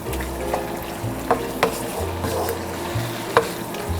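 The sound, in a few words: stirring shrimp into sizzling masala in a pan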